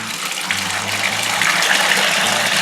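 Red wine kit juice concentrate, a California Connoisseur Merlot, pours from a heavy bag into a 5-gallon, 23-litre bucket, making a steady close gushing, splashing flow that swells slightly as it continues, with no voices.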